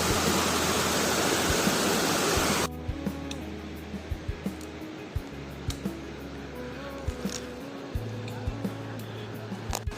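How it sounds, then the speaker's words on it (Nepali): Loud, rushing roar of a natural waterfall on a mountain trek in the Annapurna Base Camp region, which cuts off abruptly after a few seconds, leaving quieter ambience with scattered clicks. "यस्तो छ अनि नेचुरल वाटरफल।"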